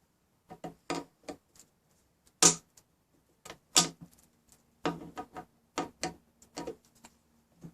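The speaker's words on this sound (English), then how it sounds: "I am able to cut this with this small diagonal cutter" Small diagonal cutter snipping through a tire on an aluminum rim, a series of sharp, close, isolated clicks and snaps at an irregular pace, with silence between cuts and no talk.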